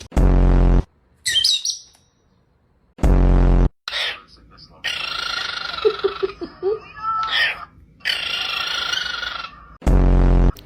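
A pet parrot calls and squawks in several loud, close bursts separated by short pauses, its cries sounding at times like meows and chirps, with other brief sounds between them.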